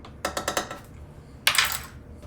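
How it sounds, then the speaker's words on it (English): Homemade kimchi stirred in a bowl: a quick series of four clinking taps, then a louder wet scraping swish, close and with no talking. "Some more kimchi mixing"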